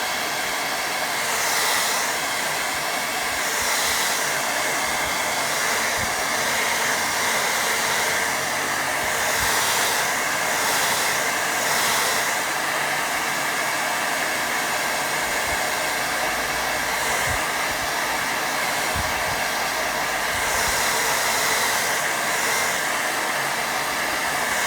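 A hair dryer blows steadily and loudly over a watercolour painting for the whole stretch, a constant close whoosh with small shifts in pitch as it moves across the paper.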